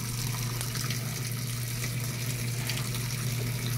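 Water flowing into an automatic Panasonic or LG washing machine that keeps filling even after the wash cycle begins, a steady, dense rush with a constant low hum underneath, continuous and close, with no talking.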